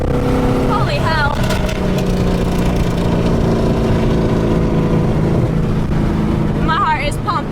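A supercharged Coyote V8 Mustang roars hard under acceleration, loud and sustained with a steady droning engine note. Excited voices shout briefly near the start and again near the end.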